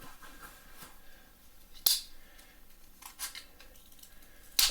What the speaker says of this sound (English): If you're cutting these tags off, go easy with it so you don't cut the enamel